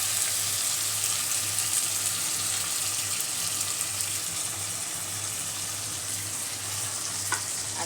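Grated tomato poured into a pan of fried fish for a village-style fish curry, giving a steady, moderately loud sizzle and hiss throughout with a faint clink near the end.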